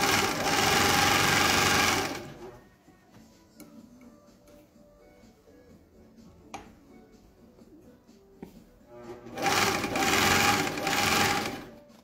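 A GN1-6D overlock machine sewing plush fabric whirs in two loud, fast bursts, one at the start and one near the end, with quiet handling clicks and light taps between.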